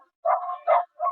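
A dog barks three times in quick succession, clear and fairly close, with short gaps between the yelping barks and no talk over them.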